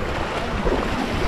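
Sea waves at Gorai Beach, Mumbai, a soft continuous wash of surf mixed with wind buffeting the microphone, fairly quiet and steady with a slight swell partway through.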